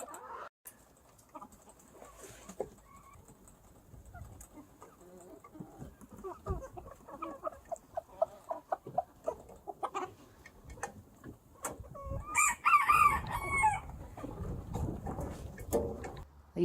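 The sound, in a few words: chickens clucking and crowing on a farm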